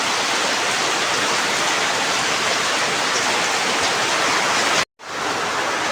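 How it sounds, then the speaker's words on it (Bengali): Heavy morning rain pours down steadily at a flooded rural home, a loud, dense, unbroken hiss that cuts out briefly near the end and then resumes. "এই যে দেখেন কি পরিমাণে বৃষ্টি হচ্ছে।"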